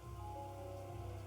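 Steady rain falls on a surface in a continuous soft patter, even and unbroken throughout, with no voices.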